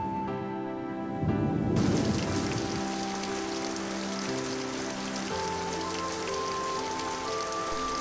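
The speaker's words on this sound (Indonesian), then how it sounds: "Ya Allah, semoga hujan ini bermanfaat." Steady rain falls on a surface, a dense, even hiss that swells briefly near the start and then continues at a constant level, with faint music-like tones underneath.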